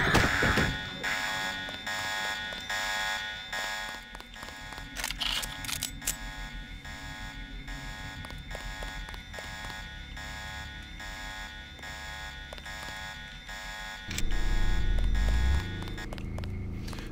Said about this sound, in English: He did trigger the alarm.